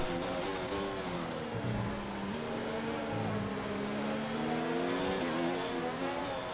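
A Formula 1 car engine in the F1 2019 racing game at Abu Dhabi gives a continuous high, buzzing whine that rises and dips with throttle over several seconds, loud and steady throughout.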